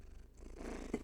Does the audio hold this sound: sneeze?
no